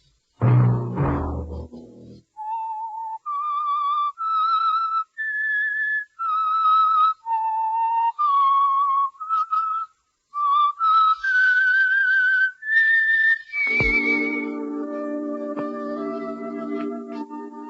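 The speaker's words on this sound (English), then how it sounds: "Let that whistle be your signal" A clear whistled melody of sustained notes rises and falls, heard alone, before giving way to a held musical chord.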